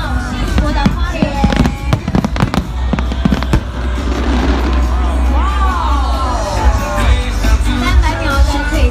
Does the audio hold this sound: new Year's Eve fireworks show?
yes